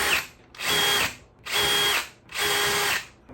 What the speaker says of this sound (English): Okay, so I did the pilot holes